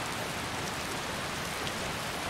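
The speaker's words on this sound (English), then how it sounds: "The rain." Steady rain falls in Skyrim Special Edition, a dense, even hiss of drops with no break, fairly soft and alone, no voices over it.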